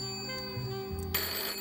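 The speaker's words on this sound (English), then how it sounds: "I thought I heard the phone." A telephone rings on a comedy talk show set, a steady electronic ring with no one speaking over it, growing brighter and louder near the end.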